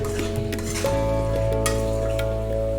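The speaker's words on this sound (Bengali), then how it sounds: "এখন সবগুলোকে ভালোভাবে নাড়াচাড়া করে নিচ্ছি" Cabbage and tomato fry in a pan while being stirred, with a steady close sizzle and light scraping and clinking of a utensil against the pan.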